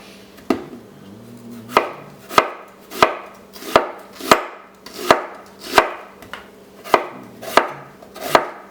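A sharp kitchen knife chops ingredients for pork fried rice on a cutting board, about a dozen crisp, evenly spaced strokes close up, alone without talk.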